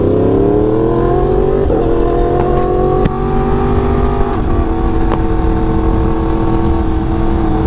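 An Aprilia RSV4 Factory superbike engine roars loudly and continuously up close, its pitch climbing and settling through several revs with a few sharp crackles and no talk over it.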